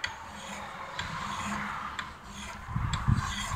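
Scraping and rubbing of a sharpening stone along the edge of a flat-grind bit during touch-up, soft repeated strokes with faint ticks and a slightly louder rasp near the end, close and quiet without talk.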